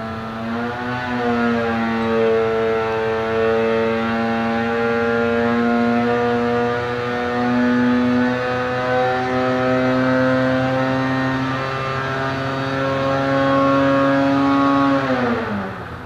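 A Polaris Axys 850 snowmobile engine, still in break-in mode, runs a full sweep on a dyno. Its loud, steady droning whine climbs gradually in pitch for about fifteen seconds, then drops off sharply at the end.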